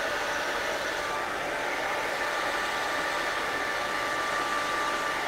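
A hair dryer fitted with a diffuser attachment runs steadily and fairly loud, a constant airy whoosh with a thin whine, alone with no talking.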